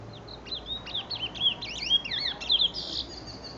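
Songbirds trained for singing competitions pour out quick, warbling phrases of bright chirps and trills, near and clear over a faint low background hum.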